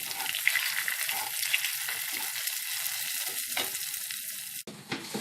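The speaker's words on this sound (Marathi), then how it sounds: "मी आता चमचाभर तूप टाकले, त्याच्यामध्ये आम्ही रवा घालणार आहे अगोदर, आणि तो चांगला भाजून घेणार आहे" Semolina roasting in a spoonful of ghee in a pan over low heat for besan vadi, a steady close sizzle and frying crackle with soft stirring scrapes, cutting out briefly near the end.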